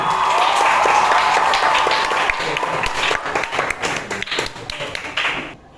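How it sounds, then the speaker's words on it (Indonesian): Classroom applause from students during a religious education lesson, a dense patter of clapping that swells at first and then thins out and fades near the end, with faint voices mixed in. "Mungkin tepuk tangan"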